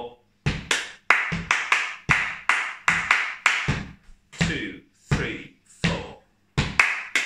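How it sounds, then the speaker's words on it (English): Hands clap a teleco teco samba rhythm, a syncopated pattern of sharp, dry claps with short gaps, played alone and close up for a percussion lesson. "Here's the rhythm, clap through"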